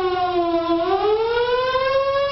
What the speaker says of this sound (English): What if a warning siren sounds?